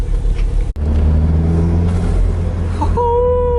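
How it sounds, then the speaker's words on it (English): Toyota MR2 turbo engine under load, a steady low rumble building as the turbo spools, then a sharp cut followed by a rising whistling hiss from the blow-off valve, recorded close inside the car. "That's spool, the blow-off valve."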